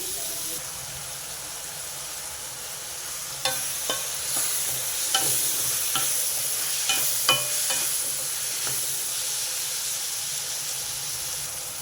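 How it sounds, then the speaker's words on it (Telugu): Onions frying in a pan for a bitter gourd tamarind curry, giving a steady sizzle with a few sharp clicks and scrapes of stirring midway, close and without talk. "ఉల్లిపాయలు తొందరగా వేగిపోతాయి ఉల్లిపాయలు కాసేపు వేగనిస్తానండి"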